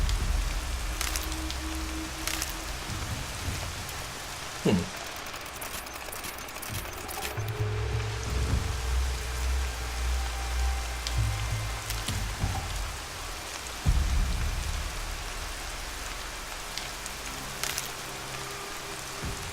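Rain pours steadily in the Horizon Zero Dawn game world, a continuous hiss of drops on surfaces with a few low thuds and knocks scattered through it.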